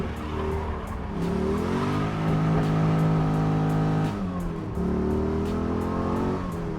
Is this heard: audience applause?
no